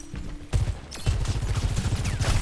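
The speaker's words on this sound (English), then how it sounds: "I'm getting shot at again" Overwatch 2 gunfire: a quick, loud rattle of rapid shots that starts sharply and keeps up a steady fast rhythm throughout, with no talking.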